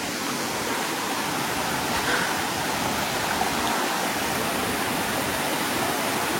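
Water rushing down near Panchalingeswar temple, a constant, loud, broadband roar like a close waterfall, steady and unbroken with no talking.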